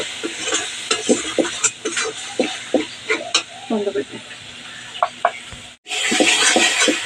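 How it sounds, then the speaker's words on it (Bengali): Spice paste frying in oil for a mung dal cooked with goat fat, a steady loud sizzle broken by repeated scraping stir strokes, the hiss surging louder near the end after a brief gap. "এবার মশলাটা কষিয়ে নেব"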